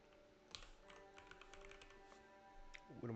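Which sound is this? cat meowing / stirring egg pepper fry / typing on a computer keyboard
typing on a computer keyboard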